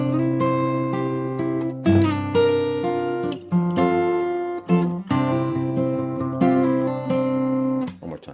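An acoustic guitar plays the first two measures of a song's intro, with plucked notes and chords ringing clearly up close, paced with short pauses between phrases and no voices.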